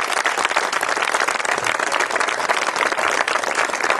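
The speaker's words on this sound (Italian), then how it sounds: "vorrei un applauso caloroso" Warm, continuous applause from an audience at a ceremony proclaiming park guides in Ronco, dense and steady throughout, loud and full without a break.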